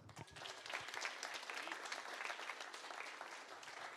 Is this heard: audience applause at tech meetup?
yes